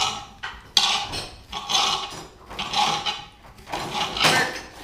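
A spoon stirs vegan orzo chili in a pot, producing repeated scraping and clinking strokes in uneven bursts, close up with no talking.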